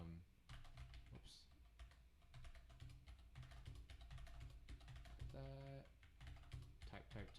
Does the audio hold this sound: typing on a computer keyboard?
yes